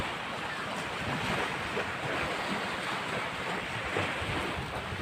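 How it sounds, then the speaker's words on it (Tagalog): Ocean surf rolling steadily against a shore under strong wind, a constant wash of breaking waves with gusty wind noise buffeting the microphone, no voices. "Napakita rin natin yung ating karagatan."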